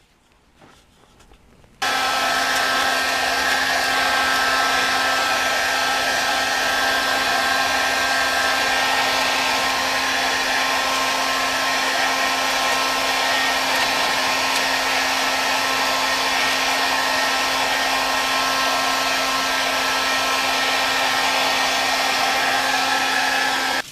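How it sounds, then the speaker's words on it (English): A hair dryer, used to dry motorcycle paint, switches on after a brief quiet start and blows continuously with a steady, loud whine and airy rush that doesn't change. "while I'm using the hairdryer"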